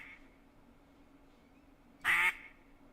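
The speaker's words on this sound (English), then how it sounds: "Let's put out the loud quack." Loud quack from a duck call in a hunting video game, one short sharp burst standing out near the end against quiet ambient background hum.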